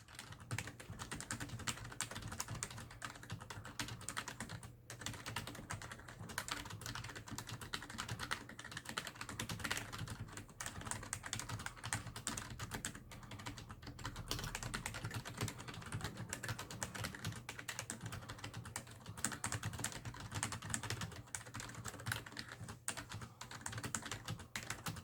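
Steady, continuous typing on a HyperX Alloy Core RGB membrane keyboard, soft muffled keystrokes in a dense, even rhythm, close up and alone with no talking.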